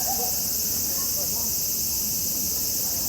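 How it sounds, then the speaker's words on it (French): Cicadas singing at a Japanese summer festival, a dense, steady high-pitched buzzing drone that fills the whole stretch without pause, with faint background murmur beneath. "Ah ouais, des cigales, hein."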